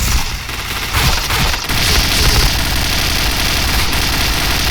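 Game gunfire from the online shooter Point Blank, a steady dense rattle of shots and explosions filling the whole stretch at high, unbroken loudness with no pauses.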